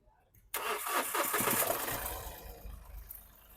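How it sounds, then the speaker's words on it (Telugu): After a brief pause, the diesel engine of a Mahindra TUV300 T6 SUV cranks and fires up at once, then settles into a steady rumbling idle nearby. "సింగిల్ సెల్ఫ్లో బండి స్టార్ట్ అవుతుంది"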